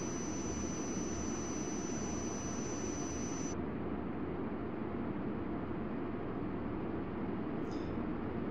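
Jet airliner on takeoff roll in the air traffic control game Tower! 2011, a steady loud broadband engine roar with a high whine that cuts off partway, continuing as a constant rushing drone throughout.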